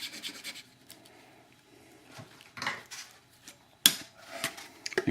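10-minute epoxy being mixed by hand, with intermittent close scraping and rubbing strokes and a sharp clink of a tool against a container, separated by quiet pauses.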